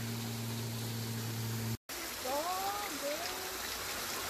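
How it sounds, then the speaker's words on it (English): A waterfall at Ringing Rocks Park pours over rocks, a steady broadband rushing hiss throughout with a brief cut, while a voice speaks over it. "We came down where the waterfalls were."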